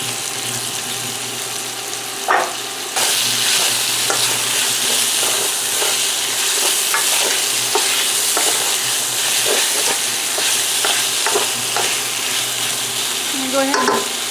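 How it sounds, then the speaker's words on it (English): Lamb meat browning in a hot pan of oil for Irish stew, a loud continuous sizzle that jumps up as pieces go in, with scattered spatula scrapes and taps over the frying. "Go ahead and brown your meat."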